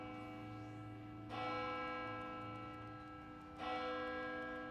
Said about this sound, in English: The doom toll of the bell, that is the warning for us to have an ad break